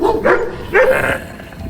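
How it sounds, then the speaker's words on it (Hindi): Large dogs on a deserted island bark twice in quick, loud bursts, each a harsh woof with a short follow-up, close by and with no talk over them. "यहाँ बहुत बड़े बड़े खौफनाक कुत्ते और देखकर भौंकते हुए यहाँ आए"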